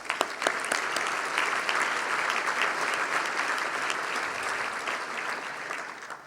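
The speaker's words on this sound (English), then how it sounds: "Give yourself a round of applause." Audience at a business awards event gives a sustained round of applause, dense and even, with a few sharp nearby claps standing out at the start before it tapers slightly.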